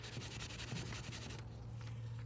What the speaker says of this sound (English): Take a paper towel, wipe it.